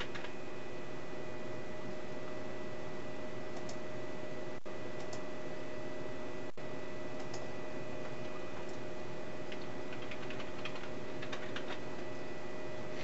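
Typing text on a computer keyboard, faint, sparse key clicks over a steady electronic hum, growing a little busier toward the end, with no talking.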